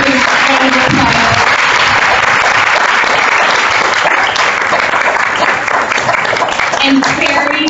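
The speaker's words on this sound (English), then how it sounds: "let's give Shelley a round of applause" A room full of parents and staff at a school PTO final meeting breaks into loud, sustained applause, steady clapping filling the space for several seconds with a few voices mixed in.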